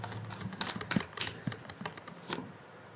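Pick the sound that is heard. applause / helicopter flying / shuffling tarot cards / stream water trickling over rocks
shuffling tarot cards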